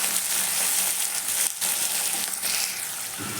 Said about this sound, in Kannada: 2 ಟೊಮೊಟೊನ ಹಾಕಿ ಫ್ರೈ ಮಾಡಿ, ಅದನ್ನು ಚೆನ್ನಾಗಿ ಸ್ಮ್ಯಾಶ್ ಆಗೋ ತನಕ ಫ್ರೈ